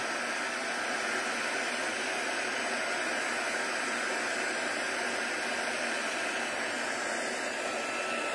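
Heat tool blowing steadily while melting embossing powder for card stamping, a continuous loud hair-dryer-like rush of air with no pauses, heard alone.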